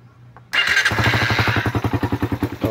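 A Suzuki Raider 150 motorcycle, repaired after a faulty regulator drained its battery, fires up abruptly after a quiet moment and settles into a loud, close, steady idle with a rhythmic pulsing beat.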